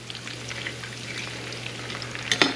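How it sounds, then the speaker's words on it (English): Pasta water hisses and crackles in hot oil in a pan, a steady, close fizzing sizzle with small pops that grows a little louder toward the end. "Hear that sizzle there a little bit?"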